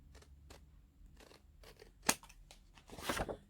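Scissors cutting paper freehand for a handmade craft tag folio: a few quiet separate snips and crunchy slices close by, ending in a louder longer cut, with no voices.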